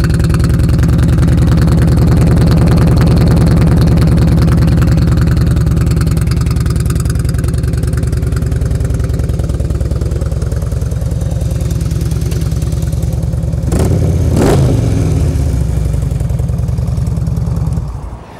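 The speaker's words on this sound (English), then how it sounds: "Got a good solid sound to that motor." A Harley-Davidson Ultra Classic FLHTCU touring motorcycle with about 55,000 miles sits at a loud, steady, throbbing idle close by, gives a short sharp rev near the end, then shuts off and goes quiet, with no talking.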